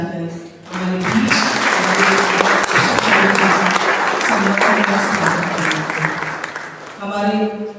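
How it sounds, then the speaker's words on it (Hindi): A church congregation at a Sunday Advent Mass led by an archbishop breaks into loud, sustained applause for nearly eight seconds, then settles as the clapping thins out at the end. "हम सभी पल्लीवासी एक बार फिर से ताली बजाकर हमारे बीच"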